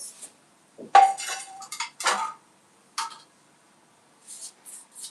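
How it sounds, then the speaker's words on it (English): Cake batter for an orange cake is scraped and spooned from a bowl into a baking pot, giving several sharp clinks and scrapes of utensils on cookware in short bursts with pauses, close and clear, no talk. "I'm going to transfer this to my baking pot."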